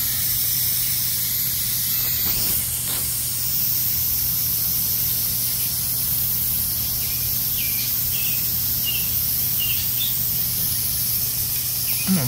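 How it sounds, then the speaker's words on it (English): Propane escaping from the valve of a Flame King bottle being refilled, a loud steady close hiss that runs unbroken, with faint background chirps. "we're going to let it go until we have a steady stream of gas coming out of this valve right here"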